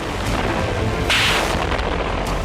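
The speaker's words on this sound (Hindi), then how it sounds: "इजराइल का रोश पिना शहर रॉकेट विस्फोट से दहल गया" A rocket explosion's dense, rumbling blast-like roar fills the clip, with a louder burst around the middle over continuous low booming noise; no voices.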